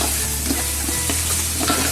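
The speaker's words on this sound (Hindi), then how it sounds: "अब इसको अच्छे से मिक्स कर देंगे मसाले के अंदर।" Yogurt being stirred into spice masala for chicken korma over a low-to-medium flame, a continuous close sizzle with soft scraping strokes of the spoon, brief and steady, with no voices.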